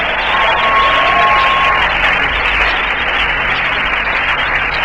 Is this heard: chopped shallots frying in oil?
no